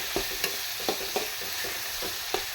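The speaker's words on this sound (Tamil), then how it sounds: "தக்காளி ரெண்டு கட் பண்ணி வச்சுருக்கேன் அது போட்டுக்கலாம் இது கொஞ்சம் நல்லா குழஞ்சி வர்ற அளவுக்கு வதங்கணும்" Chopped tomatoes sautéing in a pan, a steady soft sizzle with about six light scraping stirs of a spoon spaced irregularly through it, close by and without talk.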